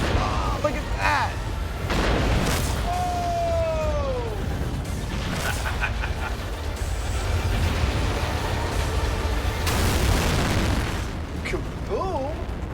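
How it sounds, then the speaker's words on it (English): Big outdoor explosion set off in a Mythbusters test, a loud booming blast with rumbling aftermath, with people exclaiming and talking over it. "Kaboom."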